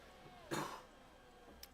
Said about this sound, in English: Do ignore the cough.